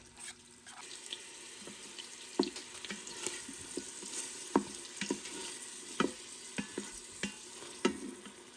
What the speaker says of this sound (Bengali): এখন দিয়ে দিচ্ছি একটি পেঁয়াজ কুচি। পেঁয়াজকে একটু সটে করে নিচ্ছি।